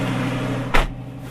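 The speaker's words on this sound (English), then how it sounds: "Let me close the door." A car door shuts with a single short thud over the steady drone of an idling car engine, and the engine noise turns more muffled right afterwards.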